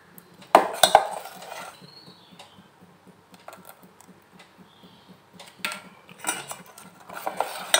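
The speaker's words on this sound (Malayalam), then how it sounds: "തീ ഓഫ് ചെയ്തതിന് ശേഷം കുറച്ച് നേരം കൂടി നമ്മൾ കട്ട പിടിക്കാതിരിക്കാനായി ഇളക്കി കൊടുക്കേണ്ടതാണ്." A spoon stirs thickening mango pudding mixture in a pan just off the heat, giving irregular clinks and scrapes against the metal, loud at first, then sparser and softer.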